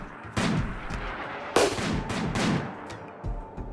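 Rimworld colony combat: several loud gunshot bursts crack out in quick succession over a few seconds, with sharp attacks and short decaying tails, no talking.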